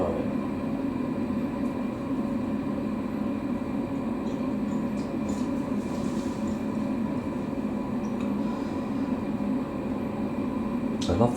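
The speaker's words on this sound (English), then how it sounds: "I love the sound of the dryer fan on this." A steady, droning mechanical hum with a constant whir runs unbroken throughout, the fan of a Fisher & Paykel WD8060P1 washer dryer running during high-heat drying, with no talk.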